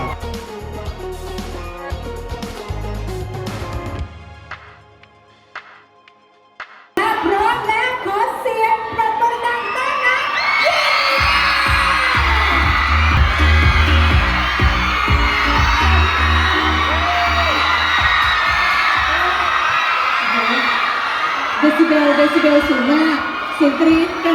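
A large crowd screams and cheers loudly and continuously, a dense roar that swells after a brief lull, with music at the start.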